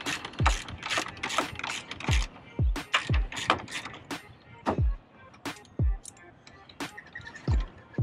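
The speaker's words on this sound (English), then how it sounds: "This is a size 8 ratchet" A size 8 ratchet and socket loosen a battery terminal on a Mercury Grand Marquis, close, crisp clicking bursts of the pawl at an irregular rhythm with occasional metallic knocks.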